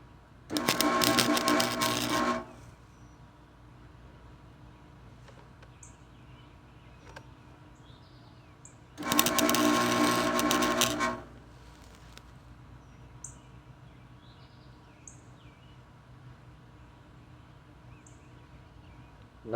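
Two bursts of welding on the broken teeth of a Toro TimeMaster self-propelled mower, each a loud crackling buzz lasting about two seconds, separated by quiet faint ticking.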